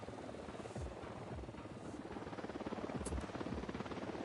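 A drone launches and hovers in the video game Ghost Recon Wildlands, giving a quiet, steady rotor buzz with a fast pulsing flutter that grows slightly stronger toward the end.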